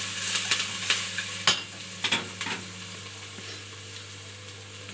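Chopped onion frying in a pan, with a few sharp stirring scrapes early on that settle into a quieter background sizzle.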